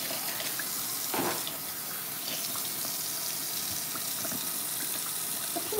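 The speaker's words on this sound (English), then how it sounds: "Put the water in here." Water running steadily from a tap into a container during a child's baby doll play, a constant close rushing and gushing stream with no talking.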